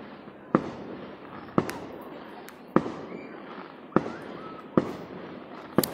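Distant Fourth of July fireworks fire in a series, six sharp bangs spaced about a second apart, each trailing off over a steady outdoor background hiss.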